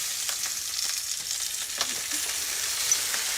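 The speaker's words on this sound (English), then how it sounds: "With any meat, we want to seal it before we add it to liquids." Rabbit meat sears in hot ghee in a pan, giving a steady, fairly quiet sizzle and crackle with a few small pops and no voices.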